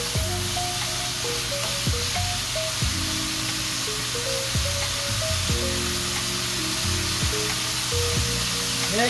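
Chicken and broccoli frying in a pan and being mixed, giving a loud, continuous sizzle with occasional scrapes from the spatula, close up and without talk.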